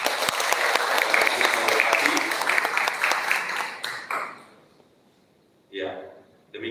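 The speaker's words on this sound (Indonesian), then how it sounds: "Kita berikan tepuk tangan." A congregation at an Easter service gives a sustained round of applause that tapers off and fades out, followed by a short spoken phrase in the quiet.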